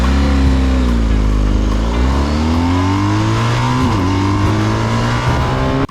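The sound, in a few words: German adventure motorcycle accelerating, shifting with quick shifter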